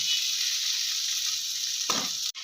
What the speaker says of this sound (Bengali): একটু টমেটোটা ভাজা করে নেবো